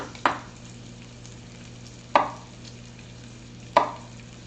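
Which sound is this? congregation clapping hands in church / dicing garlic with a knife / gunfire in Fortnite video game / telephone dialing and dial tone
dicing garlic with a knife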